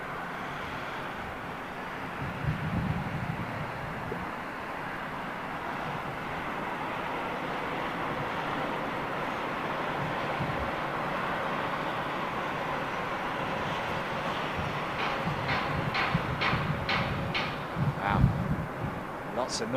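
A Virgin Atlantic Boeing 747 lands with a long, steady engine roar heard from nearby, with rumbling and some rhythmic thumps toward the end.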